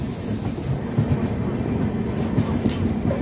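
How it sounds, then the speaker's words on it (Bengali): A passenger train at Hazaribagh station in Jharkhand gives off a low, continuous rail rumble with faint rhythmic clatter, close and steady throughout. "337 কিলোমিটার পথ পেরিয়ে আমাদের ট্রেন এই মুহূর্তে এসে পৌঁছেছে ঝাড়খণ্ডের হাজারিবাগে।"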